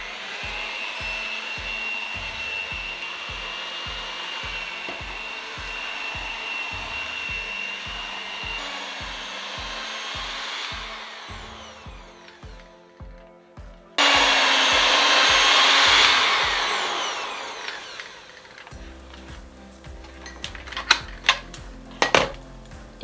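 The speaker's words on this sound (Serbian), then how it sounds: "testo možete jednostavno najobičnijim mikserom umutiti, potrebno je samo da stavite ovaj nastavak za mućenje testa" An ordinary electric hand mixer fitted with dough beaters whipping a sticky no-knead bread dough, a steady loud motor whine with rhythmic knocking against the bowl, then a louder burst before it stops and some clattering follows.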